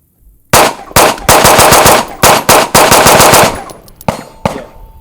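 Pistol shots at an outdoor shooting range comparing 2011-style handguns: a rapid string of sharp, loud, close reports fired in quick rhythm, then a few slower final shots.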